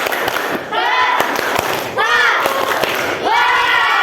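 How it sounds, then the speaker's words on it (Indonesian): A classroom group claps in unison on a count during a card-stacking game, sharp hand claps sounding over a burst of excited shouting and cheering voices from the children. "Tepuk semua. 1, 2, 3."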